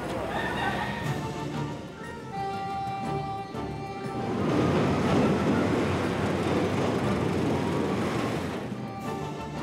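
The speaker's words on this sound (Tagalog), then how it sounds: "Ang busina ng tren, ang panginginig ng Riles," A passing train on the Philippine railway rumbles and clatters along the rails, building to a loud rush, with a sustained horn tone heard early on.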